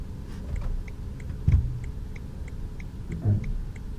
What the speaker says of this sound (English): Switch on turn signal.